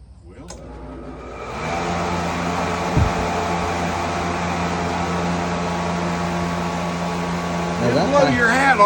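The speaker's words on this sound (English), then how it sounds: "He has got a fantastic fan to keep the sawdust off of him and keep him cool here this morning." A large electric fan runs at a sawmill with a steady, loud whooshing hum that starts up and holds, while someone talks over it.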